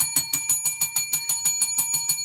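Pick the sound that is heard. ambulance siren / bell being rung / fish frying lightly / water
bell being rung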